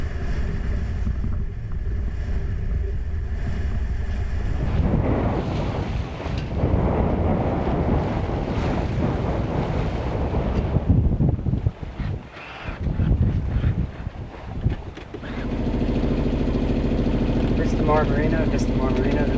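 Strong wind roars across the microphone aboard the sailboat Tarka at sea, with water rushing against the hull as she heels, a steady loud buffeting that surges and dips midway before settling into a constant rush.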